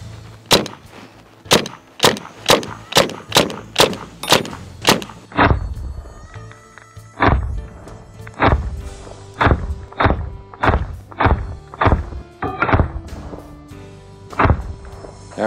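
Ten sharp, loud shots fired one after another into a fiberglass BougeRV ARCH PRO 200W solar panel, each a crisp crack with a short thud of impact, spaced roughly a second apart and heard alone with no talk.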